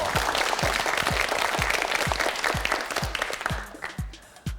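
A TV quiz show studio audience claps steadily in a dense, even wave of applause that thins out and fades near the end.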